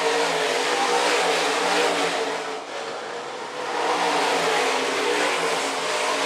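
IMCA stock cars racing on the dirt track at Phillips County Raceway, a steady roar of engines passing with a brief dip as a car goes by, loud and continuous without talk.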